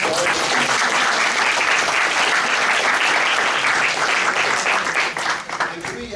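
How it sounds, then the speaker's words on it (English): Conference audience at a CubeSat 2017 space insurance session gives sustained applause, a loud, dense crowd clapping that stays level for about five seconds before breaking up slightly at the close. "Can I have a round of applause"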